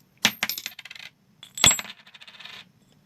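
20p coins drop one at a time through a tube in a Gunter Wulff Bingolett arcade machine, two close, bright metallic clatters, each a sharp hit followed by rapid rattling bounces that settle.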